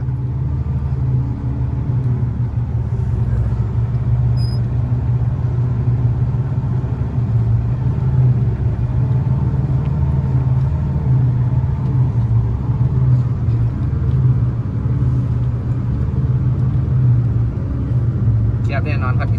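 Tractor plowing to cut a new road laid with laterite stone, a steady low engine rumble and grinding drone that holds close and loud for the whole stretch without letting up.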